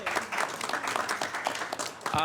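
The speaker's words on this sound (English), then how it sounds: "Let's give her a big round of applause over here." An audience at a Sacramento Transportation Authority board meeting breaks into steady applause, many hands clapping densely and fairly close for a couple of seconds, with a voice briefly heard over it.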